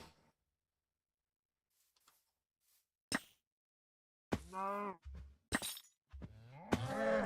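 A Minecraft cow moos several times in drawn-out, wavering calls after a mostly quiet start with a few faint clicks and a sharp crack. The moos are loud and close, one following another.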